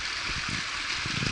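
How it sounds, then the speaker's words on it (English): Creek water flows past a trail footbridge on a hiking route near Springer Mountain, a soft, steady rushing with light gurgling throughout, fairly faint and without voices. "Really nice creek."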